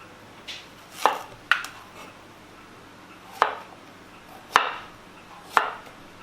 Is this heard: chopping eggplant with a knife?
yes